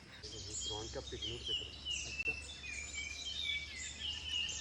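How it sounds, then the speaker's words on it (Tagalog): Several birds chirp and call in a busy outdoor chorus, high thin notes overlapping above a steady low rumble and faint background murmur. "Yan yung tunog ng mga ibon."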